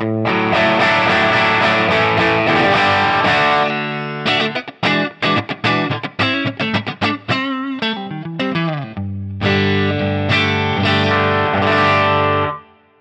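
Distorted electric guitar through a jumped high-power Hiwatt DR103 amp model plays thick sustained chords, then a choppy rhythmic riff, then ringing chords again, loud and saturated with a chorus-like shimmer.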